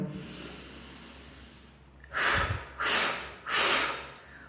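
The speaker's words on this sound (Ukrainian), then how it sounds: "потрібно зробити один глибокий вдих через ніс і два-три коротких видихи через рот" Breathing exercise: a quiet inhale through the nose, then three short, forceful exhales through the mouth in a steady rhythm, close to the microphone.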